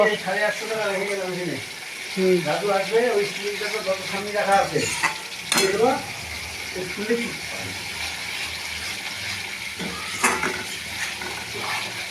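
Spice paste for a spicy katla fish curry sizzles and spatters in a pan while being stirred, with scraping clicks and a voice speaking over the cooking.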